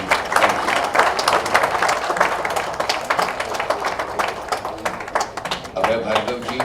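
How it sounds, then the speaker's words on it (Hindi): An audience claps steadily at a road-naming inauguration ceremony, a dense, loud stretch of hand claps with voices mixed in beneath. "आप लोग की तालियां सबको प्रोत्साहन देंगी।"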